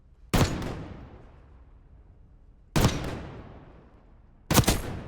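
Three loud, sharp SVD sniper rifle shots in Black Ops 6, spaced a couple of seconds apart, each a sudden crack with a long decaying echo and no talking.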